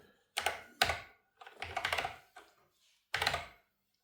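Bursts of quick typing on an Acorn Electron computer keyboard with short pauses between them, close and quiet, and no one speaking.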